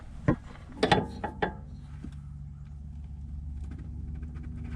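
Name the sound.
wrench tightening banjo bolt on Mazda RX8 oil cooler line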